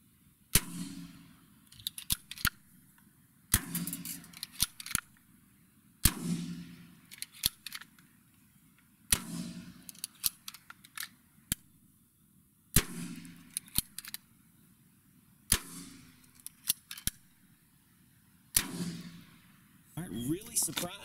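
An Umarex Notos air rifle fires repeatedly at a range, each shot a sharp crack roughly every two to three seconds, with a person talking quietly between shots.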